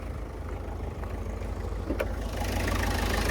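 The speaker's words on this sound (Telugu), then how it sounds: "ఇంజన్ మాత్రం చాలా సైలెంట్ ఉంది" A 2018 Ford EcoSport Titanium diesel engine idles with the bonnet open, a steady, close, low rumble that stays even throughout, with a faint tick or two.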